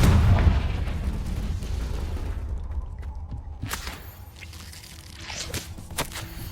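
A Confringo blasting curse exploding in the Hogwarts Legacy video game: a loud booming blast at the start that decays into crunching debris and scattered sharp pops.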